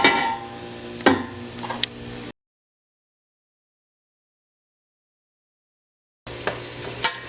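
Onion and carrots sauté in a pot: a steady close sizzle with a few sharp utensil knocks, broken by a few seconds of total silence before the frying returns.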